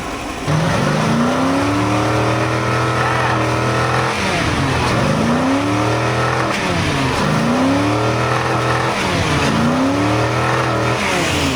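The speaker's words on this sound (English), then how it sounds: "we're gonna take this thing for a drive." A 1996 Ford F-350 pickup with a 351 Windsor V8 pulls away under load, its engine revving up through several gear shifts in repeated rising sweeps, loud and close from inside the cab, without talk.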